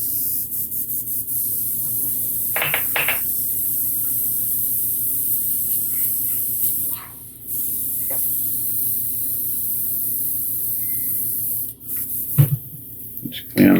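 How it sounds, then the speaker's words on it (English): Airbrush spraying in short bursts as it is cleaned out after white paint, a steady broadband hiss running nearly continuously with brief pauses and a few light clicks and knocks. "Just clean out my airbrush a little bit."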